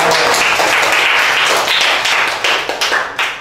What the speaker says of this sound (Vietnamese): Vỗ tay cho điều đặc biệt này.